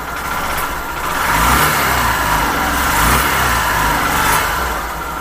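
A Honda Shine 100 BS6 motorcycle engine runs loud and close, its steady idle rising into two swells of revving before settling back down.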